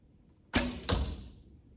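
A bow loosing an arrow in a bear-hunting video game: a sharp release followed quickly by a second whooshing thud, close and crisp against near silence.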